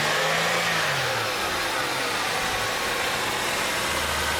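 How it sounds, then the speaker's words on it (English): A Holden VY Commodore 3800 V6 with a coolant leak revs hard in the engine bay, a loud sustained roar that holds steady close to the listener, with no talking. "As I rev this engine, this coolant level is going to drop right down."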